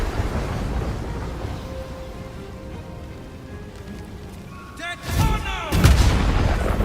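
A thunder orb spell in the video game Baldur's Gate bursts with a loud crackling, rumbling blast after a quieter stretch, followed by a sustained booming roar.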